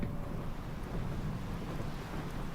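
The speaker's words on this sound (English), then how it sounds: "We're in downtown Abilene right now. It's really windy." Strong wind gusting outdoors in downtown Abilene, a steady, loud low roar buffeting the microphone without letup and with no voices.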